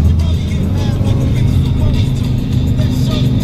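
Car engine running steadily nearby as it drives around, a constant low hum with a slight rev throughout.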